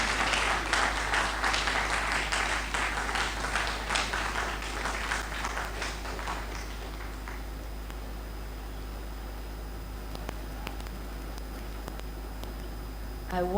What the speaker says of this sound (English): Please keep clapping until she gets here.